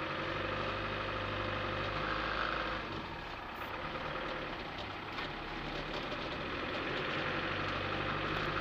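A Land Rover Defender 90 with the 300Tdi diesel engine runs steadily nearby, a continuous throbbing idle with a slight dip in level midway and no voices.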